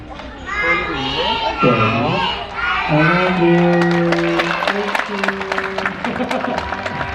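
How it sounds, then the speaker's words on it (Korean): Four-year-old children in a kindergarten class shout and cheer, then break into rapid scattered clapping that builds toward the end, with an adult voice and children's voices over the noise. "칭찬의 박수 받으며 친구들 대단합니다"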